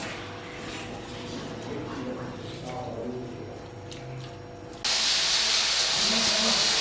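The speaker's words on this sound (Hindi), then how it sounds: "इस ऑयल के ऊपर इस चिकन को ऐड करेंगे। चिकन को ऐड करने के बाद अब हम इसको पकाएंगे।" Chicken for shashlik hits hot oil and starts frying, giving a steady hiss and spatter that swells into a loud, even sizzle after a few seconds, with faint talk beneath it.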